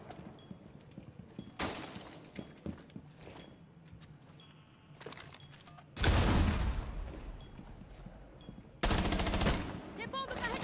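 Gunfire in the tactical shooter Rainbow Six Siege: scattered single shots, then two loud sustained bursts of automatic fire, near and harsh, with a voice faintly in the background.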